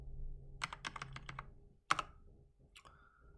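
Quiet typing on a computer keyboard: a handful of soft, close key clicks in a short run, then a couple of isolated taps with silence between.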